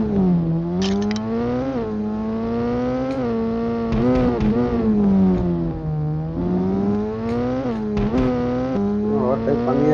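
Motorbike racing in a game played on an iPad: a continuous high engine whine rising and falling with gear shifts and revs, with brief tire squeals, loud and close, with a voice talking over it.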